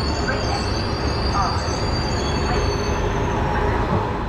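A passenger train from Kolkata runs steadily on the rails through Dhanbad in Jharkhand, with a constant loud rumble and faint squeal heard from inside the carriage. A voice talks over the noise.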